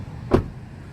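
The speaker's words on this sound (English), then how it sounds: "the car engine start stop" A brief starter whirr and catch as the 2.8-litre engine of a 2018 Toyota Hilux Revo Rocco double cab is fired by push-button start, a single short burst over a low idle rumble.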